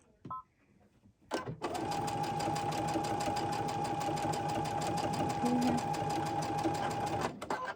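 A sewing machine stitches fabric in a quilting studio, starting after a short pause and then running steadily for about six seconds in a fast, even mechanical whir before stopping abruptly, close and clear.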